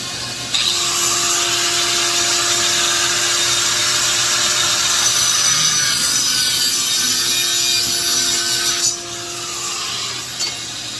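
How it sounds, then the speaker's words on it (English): A power tool saw cuts through a metal coolant pipe for a custom Holley EFI adapter on a Ford Mustang SVO, a loud steady whine that runs for about eight seconds, then drops off. "Now we're going to cut off here. We're going to cut off the ends and we're going to weld it to that."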